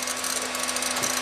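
A Toyota's dashboard clicks rapidly and continuously while the engine cranks on a battery down to about 2 volts. The buzzy mechanical chatter stays steady and fairly loud, with no voices.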